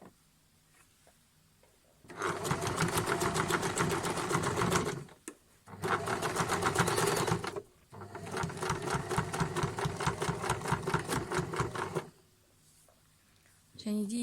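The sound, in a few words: sewing machine stitching quilt patchwork pieces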